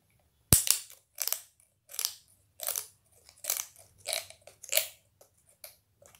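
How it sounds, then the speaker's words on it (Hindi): Knife point being worked into a coconut shell to pierce a hole: a sharp initial crack followed by a run of about seven short, crunchy scraping bursts at a steady rhythm, close up, with no talking. "इसको ऐसे करके नाइफ लेके चाकू से इसको छेद कर दिए"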